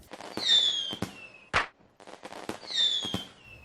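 Fireworks burst outdoors in a series of sharp, loud cracks and whistling bangs, several explosions spaced irregularly over a few seconds with no voices.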